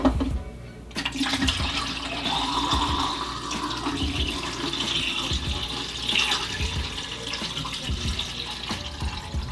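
Film developer liquid poured into a developing tank while home-processing colour film, a steady close splashing, trickling pour that runs continuously for several seconds.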